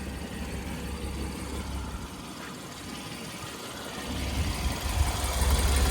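A 2013 Porsche 911 991.1 flat-six idles with a low, steady rumble nearby that grows somewhat louder and fuller over the last two seconds.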